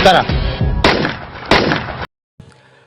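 Sniper gunshots from the film The Raid: three sharp, loud shots crack at roughly even intervals with ringing tails, and a voice speaks over them before the sound cuts out.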